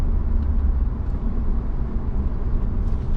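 A 1998 Mercedes-Benz CLK Brabus with a 5.8 engine drones from the exhaust while driving, a steady low rumble heard from inside the car, moderately loud and constant throughout.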